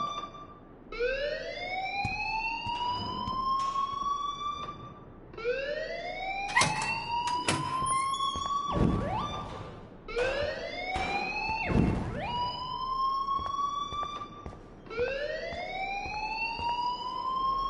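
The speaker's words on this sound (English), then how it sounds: "please turn off that alarm since that's your job" An alarm in a video game blares in repeated rising siren sweeps, loud and continuous, with clanking bursts layered between cycles.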